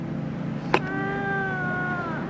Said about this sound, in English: if I don't feed Pepper like right now, she's gonna lose it